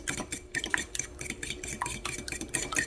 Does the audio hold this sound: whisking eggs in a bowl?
yes